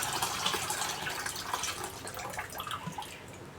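Cold water pours into a vessel of freshly squeezed lemon juice, a continuous splashing, trickling stream with bubbly drips, moderately close and steady.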